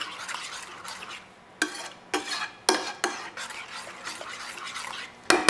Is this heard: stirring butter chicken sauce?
yes